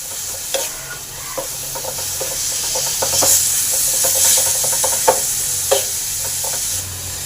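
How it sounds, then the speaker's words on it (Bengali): Young jackfruit pieces fry in hot ghee, a steady sizzle and hiss running under repeated scraping and clinking strokes of a spoon stirring the pan, close and continuous. "এঁচোড়টাকে পুরো ভাজা ভাজা করে নেব।"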